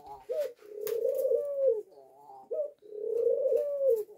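Soft, low ringneck dove coos close up, two rolling calls each opening with a short note, separated by a brief pause.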